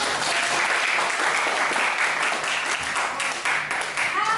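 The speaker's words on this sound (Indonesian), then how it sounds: "tepuk tangan untuk kita semua" Students in a biology teaching-practice class clap together at the end of a lesson, loud, dense and continuous applause that stays even throughout the short stretch.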